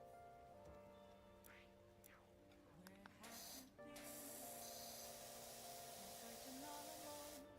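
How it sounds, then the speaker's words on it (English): A power washer in the PowerWash video game sprays with a steady broadband hiss that swells louder halfway through and holds, over faint background game tones. "Do we want to hear the spraying sound?"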